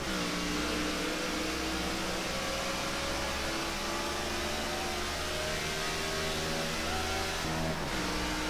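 A field of NASCAR stock cars in NASCAR '15 roars off at the green flag at Michigan International Speedway, a loud, steady wall of layered engine drone with no talk over it.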